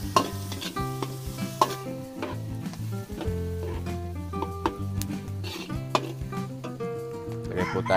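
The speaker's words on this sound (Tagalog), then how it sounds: "Sigisa na tayo ng sibuyas at bawang." Garlic and onion sautéing in a pan, a continuous close sizzle with frequent stirring and utensil scrapes, while music plays over it throughout.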